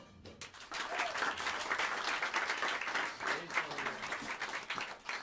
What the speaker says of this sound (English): please help me welcome them to the stage with some warm applause as I mention their names